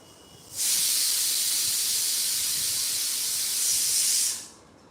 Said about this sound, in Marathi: मी आत्ता नुकतंच कुकर लावला आहे